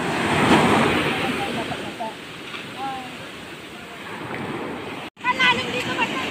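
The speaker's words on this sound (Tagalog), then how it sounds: "Ang lakas ng alon." Strong ocean waves surge and wash onto the shore with a broad, roaring rush that rises and falls, mixed with wind buffeting the microphone, while people talk nearby over the surf.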